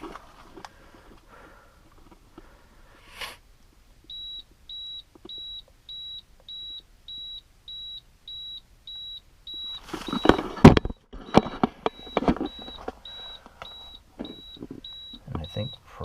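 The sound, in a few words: water filter UV system beeping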